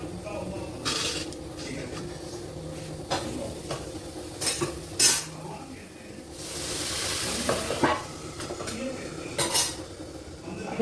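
Vegetables are added to a pan with carrots already cooking, then stirred with a utensil: sizzling under repeated scraping and clinking of metal on cookware, with several sharp bursts and a soft voice speaking at times.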